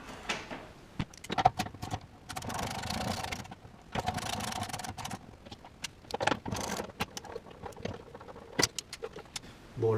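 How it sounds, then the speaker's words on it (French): Metallic clicks, scrapes and small rattles from unscrewing the original ignition coil on a 1990 Alfa Romeo Spider, close by, in irregular bursts with short pauses between. "maintenant on va dévisser la bobine"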